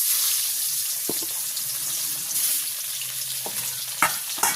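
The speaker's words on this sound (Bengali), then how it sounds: "আমার এই মাছটা ভাজি হয়ে গেছে" Hilsa fish frying in hot oil in a village kitchen, a steady close hiss and sizzle with a few sharp crackles and utensil clicks scattered throughout, no voices.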